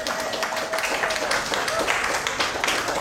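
A church congregation claps for helpers in a spirited, continuous patter of many hands, with voices mixed in beneath the applause.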